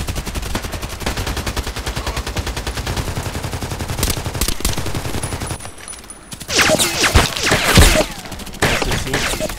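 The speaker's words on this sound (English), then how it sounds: "Going single shot, going crouching." Suppressed H&K MP5SD6 gunfire in the Contract Wars video game: a fast, steady string of muffled shots, then a brief lull and a few louder, scattered bursts.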